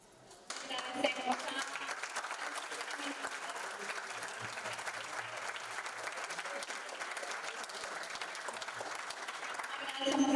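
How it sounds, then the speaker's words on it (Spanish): Sustained, even applause from the audience at a panel discussion on managing protected areas rolls on steadily for about ten seconds, moderately distant with a dense crowd texture. "Es un aplauso."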